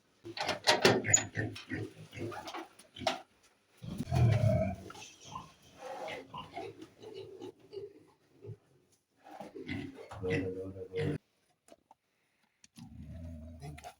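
A pig about to be slaughtered grunts and squeals in short irregular bursts, fairly close, with pauses between, and a few faint sounds of movement in the background.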